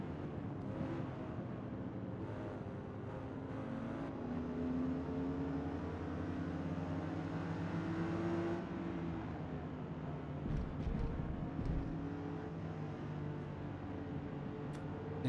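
BMW M1 race car engine in the Forza Motorsport (2023) video game, a droning tonal engine note with shifting pitch as revs rise and drop through gears, moderately loud and heard without talk.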